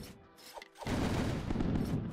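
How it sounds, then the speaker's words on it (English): Cannons fire in the video game Rogue Legacy, a dense burst of booming shots that swells suddenly into a sustained loud rumble of overlapping blasts after a brief quieter lead-in. "There's a lot of cannons down there."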